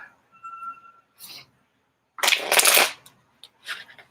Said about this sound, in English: Let's get 2 more shuffles, please.